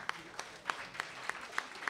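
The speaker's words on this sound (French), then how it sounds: "Un applaudissement, s'il vous plaît." An audience claps at a public science communication event: a sparse, rhythmic patter of hands at moderate distance, fairly quiet and steady, with no voices over it.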